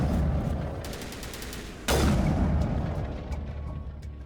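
Gunfire in the video game Mass Effect, rapid bursts of automatic weapon shots followed by a sharp, loud blast, then a fading rumble with more scattered shots, with no talking.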